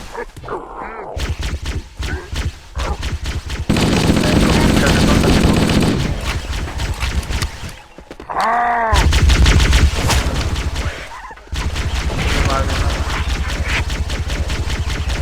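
Continuous automatic gunfire in Halo: Combat Evolved, with long sustained bursts broken by short pauses and a whooshing energy sound midway, loud and close, while a voice talks over parts of it.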